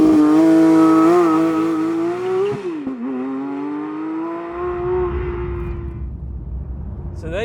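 A Porsche 911 GT3 Touring launches hard on a normal road, its engine howling loud and high through a rising gear, dropping pitch at a shift, then fading into tire and wind roar as the car pulls away.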